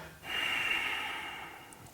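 A forceful breath pushed out through the nose during a fast, vigorous yoga class, one sustained airy exhale lasting over a second and a half, close and fairly loud, with no talking over it.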